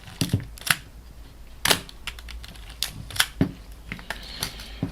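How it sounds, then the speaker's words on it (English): Cloth focal plane shutter of a Minolta X-300 camera firing in a series of sharp, close mechanical clicks at an uneven rhythm, with no talking. "we have a cloth focal plane shutter here."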